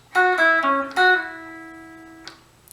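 Guitar playing the opening phrase of a solo: a few clear sustained notes with slides, the last one ringing out and fading, alone with no talk.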